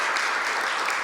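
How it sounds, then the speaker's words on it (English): Brief applause from an audience at a university colloquium, a dense, even patter of many hands clapping at moderate volume. "So why don't we give them a round of applause"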